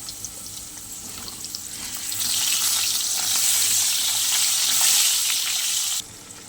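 Potatoes fry in hot oil, a constant close sizzle that thickens into a bright, loud crackle midway before cutting off abruptly near the end.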